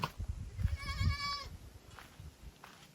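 A goat gives a single wavering bleat at close range outdoors in a village setting, set against low rustling and shuffling noise, with faint further sounds afterward.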